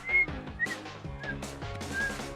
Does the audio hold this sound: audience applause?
no